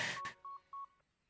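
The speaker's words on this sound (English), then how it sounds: "Oh, that's his phone." A phone in a Breaking Bad episode sounds a few clear electronic tones: a short tone, then paired beeps spaced evenly apart, after a brief burst of noise at the start and ending in quiet.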